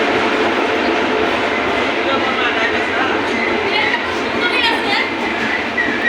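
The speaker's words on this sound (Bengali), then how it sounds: "ফাইনালি আমাদের ট্রেন চলে এসেছে" A loud, steady rumble and rush of a train arriving at a station close by, running continuously with a faint higher squeal near the end.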